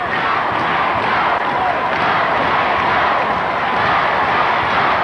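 Dense, loud crowd cheering and shouting at a tag team title wrestling match, a steady roar from a packed arena with occasional thuds.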